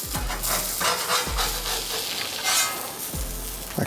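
A salmon fillet frying skin-side down in a hot pan makes a loud, dense, steady sizzle up close, with a few low thumps spaced through it and no speech.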